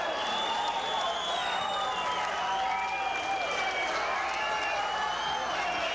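A boxing arena crowd applauds and cheers for a fighter, a steady dense wash of clapping and voices at an even level throughout.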